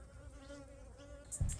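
Blue banded bees hover around salvia flowers in a backyard garden, giving a faint, steady insect buzz with a low hum, followed by a brief louder close rustle near the end.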